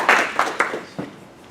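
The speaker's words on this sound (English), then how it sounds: "let's give a warm round of applause for Christian Peel." A short burst of audience applause for a speaker at an Ethereum meetup, with a few sharp claps standing out early and then thinning out quickly.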